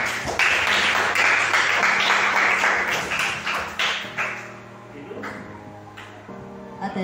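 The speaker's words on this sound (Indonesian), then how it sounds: "tepuk tangan untuk saya" A short burst of clapping and applause from a group, fairly close, fading out after a few seconds.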